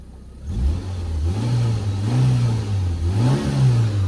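Close-up revving from a petrol Maruti Zen Estilo hatchback, the engine rising and falling through several smooth throttle blips over a steady base, with no voices.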